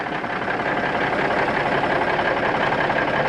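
Kenworth K100E cabover truck engine running without catalytic mufflers, a steady broadband diesel rumble idling close by with no voices.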